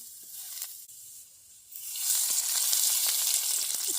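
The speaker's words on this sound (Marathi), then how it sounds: "कडे पण तापले आता कांदे भाजायचे आहेत" Onions hit hot oil in a pan for a crab curry cooked outdoors by a river, the quiet sizzle swelling into a steady loud crackle partway through, heard close with no voices.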